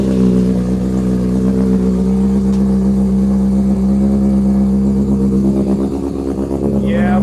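Motorcycle engine idling steadily in a shed, its deep rumble rising into a rev near the end, loud and close throughout.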